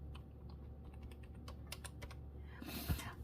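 Light, quick taps on a computer keyboard in short uneven bursts, close and quiet, followed by a brief louder rustle at the end.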